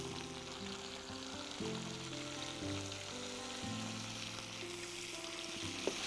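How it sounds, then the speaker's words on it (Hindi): Veg Manchurian sauce seasoned with salt, chili sauce and vinegar frying in a pan, giving a soft, steady sizzle throughout with faint clinks near the end. "और इसको अच्छी तरह से भूनेंगे।"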